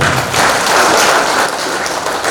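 A seminar audience at a basic leadership training gives a dense, loud burst of applause that stays steady and full throughout, with no talking over it.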